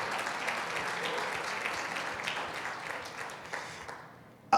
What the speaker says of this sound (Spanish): si te emociona y quieres aplaudir, aplaude, claro